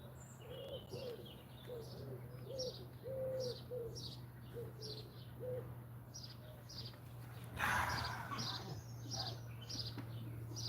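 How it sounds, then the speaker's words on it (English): Several birds chirp and call outdoors near a racing pigeon loft in repeated short phrases, with a low steady hum underneath and a brief rustling burst midway. "It's nice to hear the birds singing though."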